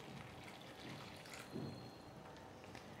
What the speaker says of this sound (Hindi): ये पानी इसमें डाल देंगे तकरीबन ये आधा कप होगा